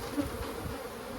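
Bees from an abandoned hive take to the air after their box is shaken, making a soft, continuous, close buzzing drone with no voices.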